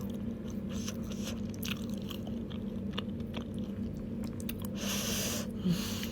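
Someone chews Krishnaganj-style dried fish (shutki) at a home dinner, with close, steady crunching and biting sounds that run continuously and fairly softly.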